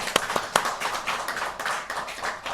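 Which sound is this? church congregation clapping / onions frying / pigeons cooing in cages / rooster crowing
church congregation clapping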